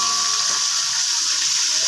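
Food frying in a pan on a home kitchen stove, a steady close hiss and crackle of sizzling oil that holds evenly for the whole moment with no voices.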